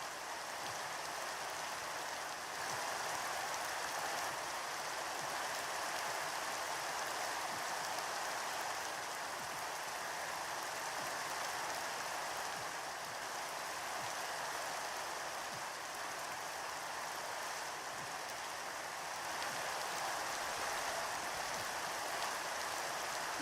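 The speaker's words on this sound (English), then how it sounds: "It's fucking raining again." Minecraft rain falls as a steady, even hiss that holds at the same level throughout, with no talk over it.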